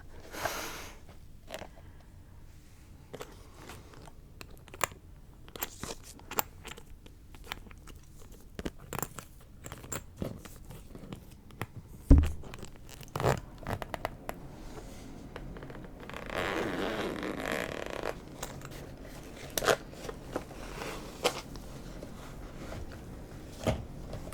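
A clothing zipper is scratched and fiddled with up close in a quiet whispered setting, giving soft, intermittent rasping bursts separated by small handling noises and pauses.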